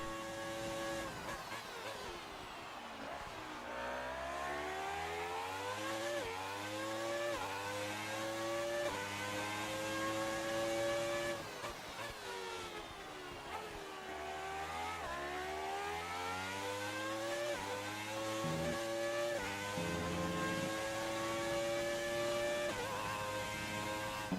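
Classic race car engine in a racing video game, running continuously through a lap with rising and falling revs as gears shift, loud and close throughout, no talking.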